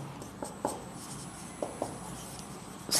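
Marker or chalk strokes on a board during a geometry lesson, a handful of short, faint scratches and taps spaced apart in a quiet room.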